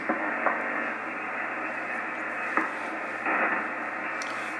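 Ham radio receiver hiss on the 40 metre band from a Yaesu FT-101ZD, a steady loud band-limited static with faint crackles and brief bursts of interference, no voice heard.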